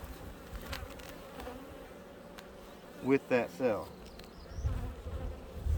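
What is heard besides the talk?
honey bees buzzing around a queen cell in the hive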